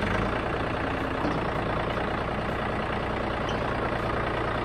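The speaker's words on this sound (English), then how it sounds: "I'm going to show you how this works with the engine on." John Deere tractor engine running steadily at idle, a constant low rumble that holds throughout without talk.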